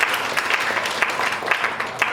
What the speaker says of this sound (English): Mary, clap hands for her on that.